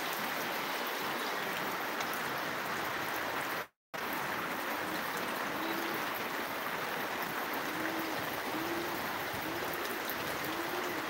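Heavy rain pours down in Kasba, Brahmanbaria, making a dense, steady hiss of water across the whole stretch, broken only by a brief total dropout early on.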